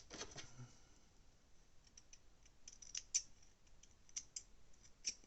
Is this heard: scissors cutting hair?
yes